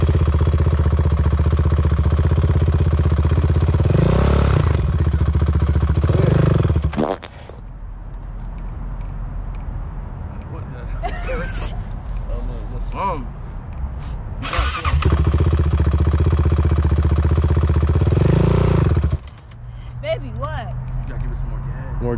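A quad bike engine revs loudly in two long bursts with a quieter idling stretch between them, while people talk over it during a first-time riding lesson.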